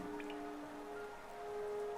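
Steady rain falls in Hollow Knight, a soft continuous patter with a faint sustained tone from the game underneath, no voices.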